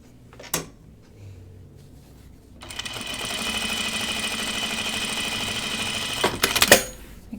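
A sewing machine stitches a seam on jeans in one sustained run of several seconds, close and clear, framed by a few sharp clicks before and after.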